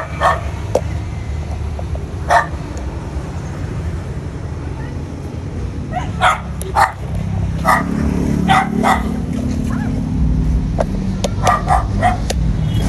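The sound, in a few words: dog barking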